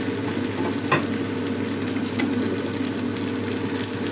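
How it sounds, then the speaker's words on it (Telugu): Fish pieces fry in a shallow layer of oil in a pan, a loud, even, hissing sizzle that holds steady from start to finish, close up with no voices. "ఫ్రై అవుతుంది ఓకే అండి మంచిగా ఫ్రై అయిపోయినాయి"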